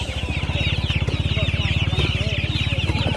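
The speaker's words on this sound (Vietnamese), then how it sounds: "Đây một con trống là." Chickens cluck steadily nearby at a bamboo-built farm coop, a rooster among them, with a rapid, even rhythm of short calls running throughout and a few brighter squawks layered over it.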